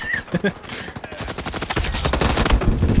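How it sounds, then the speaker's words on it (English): Rapid automatic gunfire in a first-person shooter video game, loud and close, building into a dense continuous burst, with a voice speaking briefly over the start. "can't see when I'm firing"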